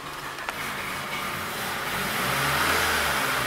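Honda Civic engine, one that cranks but won't start and idles poorly, held at a raised throttle with a steady rising drone that swells slightly toward the end, heard close with no talking.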